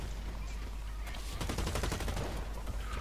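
Rapid gunfire in the online shooter Blacklight Retribution: a dense volley of quick shots rattling over a steady game background hum, with no voices.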